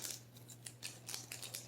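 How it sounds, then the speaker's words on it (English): Scissors snip into a green onion package, a quick run of close, crisp cutting clicks over a low steady hum, with no talking. "there's no perforation, so let's cut into it without cutting ourselves"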